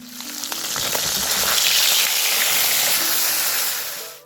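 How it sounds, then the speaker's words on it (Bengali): Fish fries in a pan with a loud, close, continuous hissing sizzle that swells and stays dense throughout, with no talking over it. "এদিকে মাছটা ভাজা হয়নি মাছটা ভাজবো"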